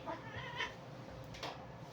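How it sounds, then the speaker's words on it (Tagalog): A pet cat meows softly a few times, faint and somewhat distant against a steady room hiss, with no talking. "may makulit na pusa"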